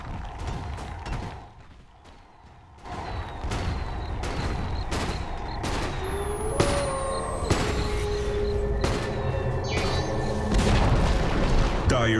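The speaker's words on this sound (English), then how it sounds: "Dire's top tower has fallen." A tower collapsing in Dota, a multiplayer battle game: several booming impacts and mechanical creaks rumble through a dense mix of game sound effects, with a louder crash near the end.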